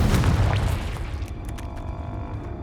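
A Confringo blasting spell in a Hogwarts video game lands as a heavy, booming explosion at the start, then fades into a low rumbling decay with a few faint crackles.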